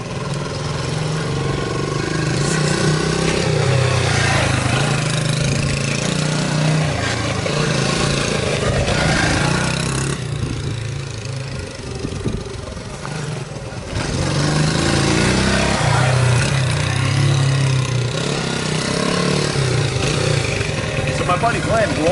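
A 1977 Honda XR75 small motorcycle engine runs steadily close by, a buzzing mid-pitched drone with slight dips in revs, while someone talks over it.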